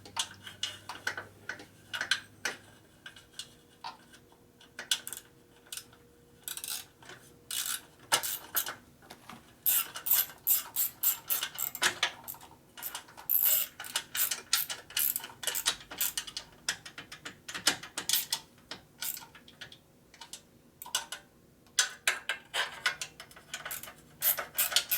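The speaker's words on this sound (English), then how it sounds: "Custom wrench going." A custom wrench ratchets in quick bursts of sharp metallic clicks, close and irregular, with short pauses between runs of tightening.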